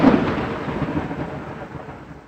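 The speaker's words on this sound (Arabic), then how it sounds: "إنه الرعد" Thunder rolls in from heavy storm clouds, a broad loud rumble that starts strong and gradually fades, with faint rain-like hiss underneath and no voices.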